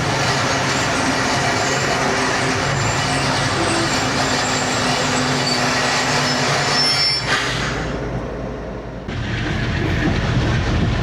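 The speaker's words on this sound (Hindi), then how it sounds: "गंबट से रवाना हो गई है ट्रेन" Awam Express passenger train departing Gambat, a loud continuous rumble of wheels and rolling coaches close by, with a brief shift in tone partway through before the steady roar resumes.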